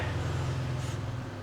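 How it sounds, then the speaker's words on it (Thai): A steady, droning low engine hum with a muffled, buzzy texture runs continuously and alone, the Revox car in the Roblox game Jailbreak. "เพราะว่านี่เป็นเสียงของรถคันนี้ครับผม รถรีโวนะ"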